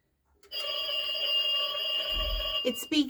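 A novelty decorative telephone makes a sustained electronic ringing, buzzing tone that starts abruptly, holds steady and loud for a few seconds, then breaks into short warbling bursts at the end.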